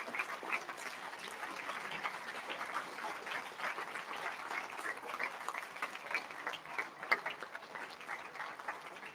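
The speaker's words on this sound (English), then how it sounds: "Let me see who is not applauding for India." An audience at a college induction program applauds for India. The steady, dense clapping of a large crowd sounds somewhat distant and holds at an even level throughout.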